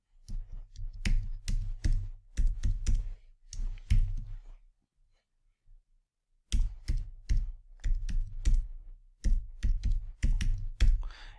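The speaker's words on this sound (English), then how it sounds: "So let me go ahead and type that in." Login credentials are typed on a computer keyboard into an ESXi web client, in bursts of quick, close key clicks separated by a brief pause, then another run of typing.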